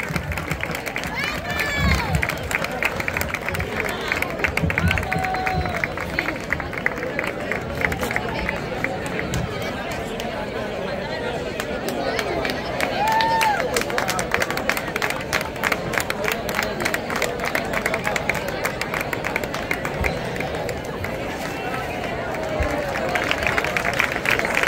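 A crowd at a playback performance contest applauds continuously, with dense steady clapping, scattered cheers and a background babble of voices lasting throughout.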